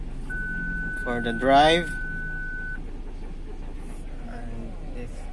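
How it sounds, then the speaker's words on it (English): A Ford Everest Titanium parking sensor sounds a single sustained electronic tone of about two seconds, heard from inside the cabin under a man's speech. "if there's a nearby obstruction, the sensor will activate an alarm for you to be warned"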